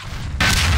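A single loud, close rocket blast in Half-Life 2 Deathmatch, a sudden booming burst that cuts in after a quiet lead-in and rumbles on to the end.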